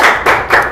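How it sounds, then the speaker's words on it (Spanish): A short burst of applause for visiting brands in a television studio, three quick swells of close clapping. "Un aplauso a todas las marcas por..."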